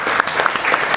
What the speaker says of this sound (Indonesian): Oke, beri tepuk tangan buat Bangkit.